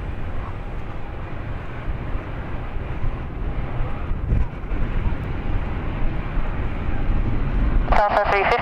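An airplane lands on runway 9 at San Diego airport, its engine roar a steady, loud broadband rush with wind buffeting, and a brief voice breaks in near the end.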